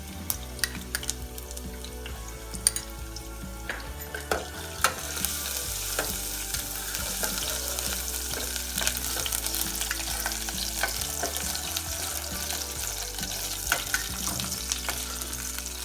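Half a tablespoon of chopped garlic frying in four tablespoons of oil in a pan, a constant crackling sizzle with scattered clinks and scrapes of a utensil, close up and without speech.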